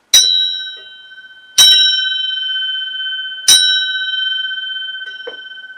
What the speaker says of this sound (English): So I'm going to hit the gong.